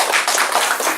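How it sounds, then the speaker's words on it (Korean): A lecture audience claps together in a short, dense burst of applause, many hands close and loud for about a second. "동의하시면 박수 한번 치죠."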